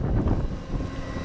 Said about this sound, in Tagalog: Lakas daw hangin.